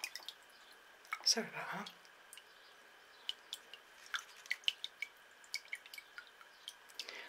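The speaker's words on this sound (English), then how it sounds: "and all that excess water will just drain away" Excess water drips and drains from a plant pot as it is set back in place, a quiet series of small scattered drips and trickles following a brief rustle and a short spoken apology.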